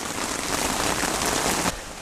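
Steady heavy rain drums on nearby surfaces during a thunderstorm at a riverside catfish fishing spot, a dense, even hiss that drops slightly in intensity near the end, with no voices.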